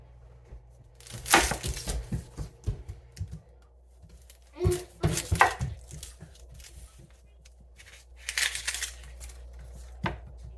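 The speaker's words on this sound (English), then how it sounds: "I'm going to begin with chopping my onion" Bursts of quick, sharp knife chops on an onion on a cutting board come in several clusters separated by pauses, close and fairly loud, with no talking.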